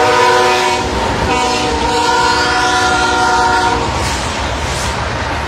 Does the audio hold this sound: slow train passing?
yes